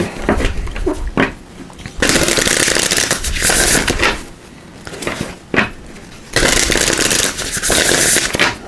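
Tarot cards being shuffled in loud, brisk riffling bursts, separated by short pauses with a few taps and handling noises, close up.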